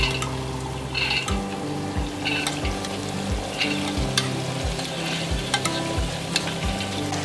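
Dal stirred in a hot frying pan for a lockdown dal-meat dish, with steady sizzling throughout and a rhythmic series of scraping stirs roughly every second, close and fairly loud, with no talking.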